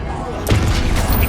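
The Confringo fire spell from Hogwarts Legacy lands as a sharp, punchy blast with a short crackling burst that trails off over about a second over game ambience.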